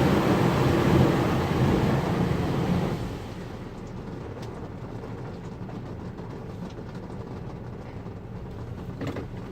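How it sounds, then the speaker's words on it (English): A hand power washer sprays a filthy 1999 Honda Accord V6 at a car wash. A loud rushing blast lasts about three seconds, then settles into a quieter, steady hiss of spray. "I'll probably get to the power washers, the hand power washers, and try to spray out the"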